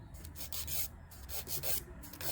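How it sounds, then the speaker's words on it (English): Builder gel nails being filed with rapid back-and-forth rasping strokes, close and steady in short repeated bursts with no talking. "and then we're going to just start filing."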